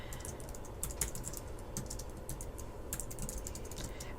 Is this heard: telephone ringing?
no